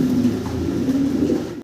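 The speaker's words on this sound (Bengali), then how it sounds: "শৌকিং কবুতর, হোমোজেনিয়াস কালার" Fancy pigeons of a single uniform colour coo continuously at close range, a deep, steady rolling hum that runs unbroken for over a second before cutting off.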